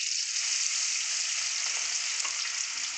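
Garlic sizzling in hot oil for a spicy dry fish curry, a steady bright crackle that holds close and continuous, with faint stirring underneath.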